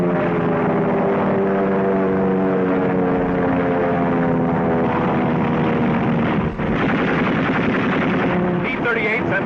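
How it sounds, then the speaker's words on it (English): Spitfire and Messerschmitt fighter planes in a wartime dogfight over North Africa roar loudly and continuously, their engines droning and rising together with bursts of machine-gun fire in an old, dense 1943 recording. "This is a dogfight. A Spitfire dives on a Messerschmitt."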